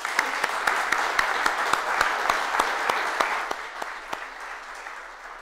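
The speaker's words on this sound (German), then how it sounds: "vielleicht auch schon mal einen Applaus." Audience applause at a robotics talk evening in Hannover, steady dense clapping with a few sharper individual claps, fading toward the end.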